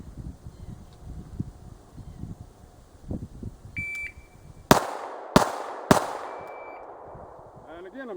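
Three sharp handgun shots fired strong hand only from low ready in a timed drill, loud and close in quick succession after a shot-timer beep, with quieter background noise before.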